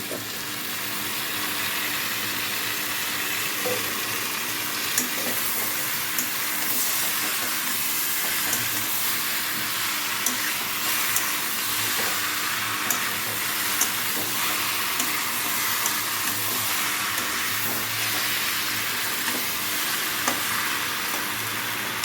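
A fish head coated in spices fries with boiled taro, giving a steady, loud hissing sizzle for the whole stretch and faint occasional stirring ticks, close and without speech.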